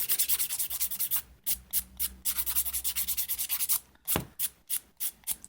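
Acrylic nails being filed by hand with a nail file at home, a close, steady run of quick rasping back-and-forth strokes, pausing briefly partway, then resuming in shorter separate strokes.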